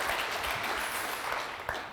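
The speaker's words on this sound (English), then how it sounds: "Give him a round of applause." An audience at a startup pitch event in The Hague gives a presenter a round of applause: dense, steady clapping from many hands that fills the room evenly, with no voices over it.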